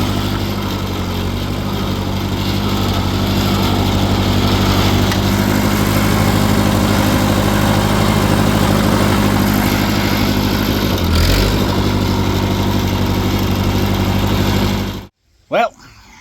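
A Ford 8N tractor engine runs steadily in underdrive first gear, a loud continuous low chug held for about fifteen seconds before it cuts off abruptly into near silence.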